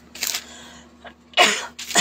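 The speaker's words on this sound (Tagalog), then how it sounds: "Excuse me po, at ako inuubo." A person coughs a few times in short, sharp bursts, close and fairly loud in a quiet room, with pauses between coughs and no talking.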